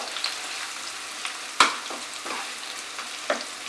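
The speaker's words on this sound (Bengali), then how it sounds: "পেঁয়াজটাকে মাঝারি আঁচে ফ্রাই করব।" A large chopped onion frying over medium heat for chicken korma, a steady soft sizzle with scattered scrapes and knocks from stirring, one louder clack midway.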